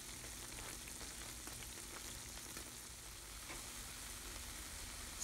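Tortang giniling, a ground meat omelette, frying in a pan with a steady, dense sizzle and crackle that holds evenly throughout, close and alone with no talking.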